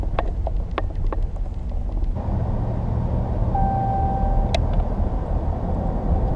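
An old car or truck drives steadily with a loud, continuous low engine and road rumble close up, plus a few brief clicks and a faint tone near the end.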